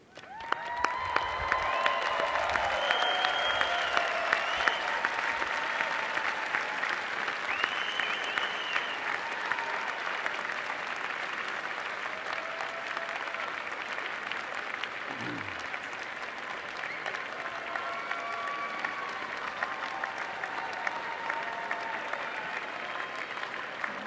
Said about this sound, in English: Please stand up and give them a hearty cheer.